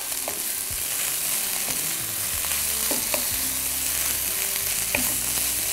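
Vegetables for a beef stir fry sizzle and crackle in a hot pan while being stir-fried, with scattered clicks and scrapes of tossing against the steady frying hiss.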